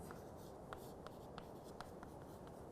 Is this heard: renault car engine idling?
no